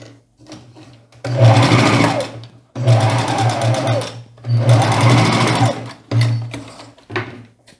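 Sewing machine stitching the waistband seam of a pair of shorts, close and loud, running in three bursts of about one and a half seconds each with short pauses and a brief final run.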